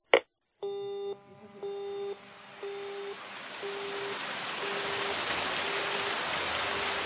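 Steady rain hiss builds and fills the scene in a Japanese drama, starting alongside a repeating electronic busy-signal tone that fades out as the downpour takes over.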